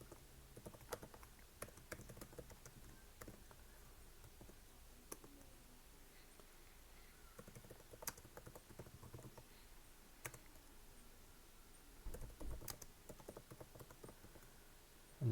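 Quiet, irregular clicking of a computer keyboard as code is typed, light keystrokes pattering in uneven bursts with a slightly busier flurry near the end.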